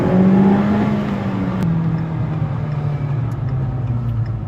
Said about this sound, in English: you want to accelerate from 35 to 45